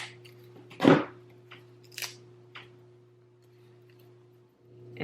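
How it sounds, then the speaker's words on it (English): Scissors snipping a piece of Velcro, one sharp loud cut followed by a few fainter snips, alone against a quiet room hum. "I'm going to cut a piece of Velcro."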